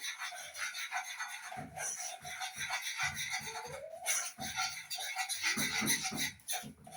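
Steady scraping and rubbing in a pan, a utensil dragging back and forth through flour stirred into butter, continuous and close.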